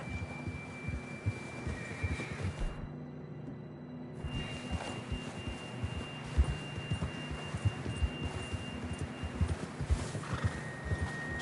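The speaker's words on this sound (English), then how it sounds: "John was riding that horse when we left Blackwater" Horse sounds in Red Dead Redemption 2, with hoof clip-clop and a whinny over a steady game-like ambient hum and music, moderately loud and continuous.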